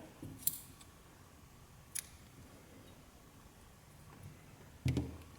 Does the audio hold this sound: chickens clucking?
no